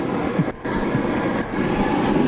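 The world's smallest jet-powered motorcycle at a car show, its jet engine howling continuously with a rising high-pitched whine, loud and close, with two brief dropouts.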